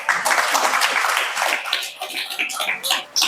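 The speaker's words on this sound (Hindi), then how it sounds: "बजाओ हमारे लिए तालियां।" An audience claps together at a Hindi religious discourse, a dense, steady burst of applause lasting a few seconds with slight dips near the end.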